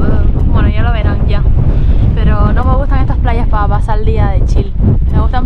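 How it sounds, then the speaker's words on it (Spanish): Strong wind on a beach in the Canary Islands buffets the microphone with constant heavy roar throughout, as people talk over it. "Siempre está el viento, boom, boom, boom."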